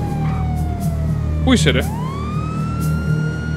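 A police car siren wails in GTA roleplay, a steady tone sliding through its cycle beneath excited talk, with a sharp warbling yelp partway through.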